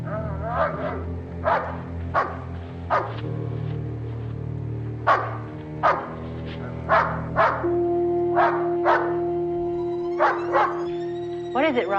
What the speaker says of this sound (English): she was awakened from a sound sleep by the barking of her dog, Raleigh.